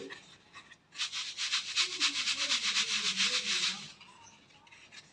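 A kitchen mixer grinder grinds flattened rice (poha), whirring loudly for about three seconds with a pulsing, gritty rhythm, starting and stopping abruptly, between quieter background stretches.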